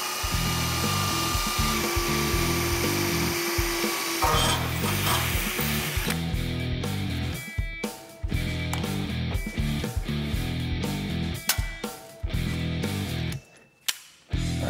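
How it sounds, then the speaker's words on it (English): A small pilot bit drills into metal while building rolling car stands in a garage, a steady mechanical whir with ratcheting texture that runs near and loud with brief pauses near the end. "I'm running a small pilot drill bit first"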